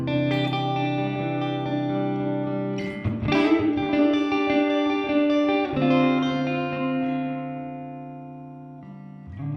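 Electric guitar through a delay pedal, sustained chords and a burst of picked notes with echoing repeats trailing off, clean to lightly driven tone, close and alone without talk.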